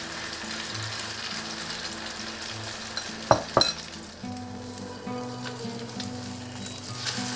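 Breakfast quesadilla egg mix fries in vegetable oil on a medium-low stove, a steady close sizzle with a couple of brief clanks from the pan or utensil midway.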